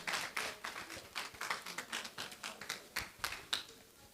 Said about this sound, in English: Ladies, let's clap for her.